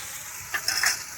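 Fried potatoes go into a pan of curd and spice mix, giving a brief steady sizzle broken by a couple of short scraping stirs near the end.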